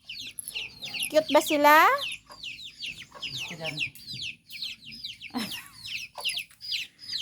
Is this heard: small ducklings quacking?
yes